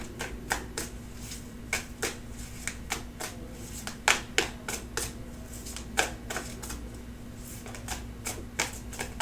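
A lightweight tarot deck is shuffled by hand in a quiet room: a long run of crisp, papery snaps and riffles at uneven intervals, close and fairly soft over a faint steady hum, with no talking.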